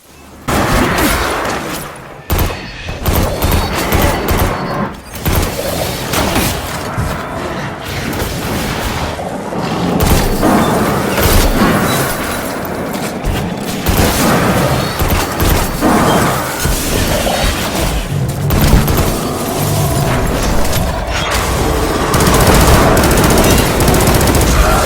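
Sustained rapid gunfire and booming impacts from a Destiny 2 firefight against Hive enemies, loud and nearly unbroken, with bursts of automatic fire, heavy hits and occasional shattering crashes throughout.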